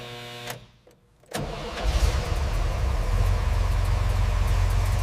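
A 1959 Cadillac Eldorado Biarritz under restoration, with a tone already sounding, falls briefly quiet, then its engine catches on the first start and settles into a steady, rumbling run.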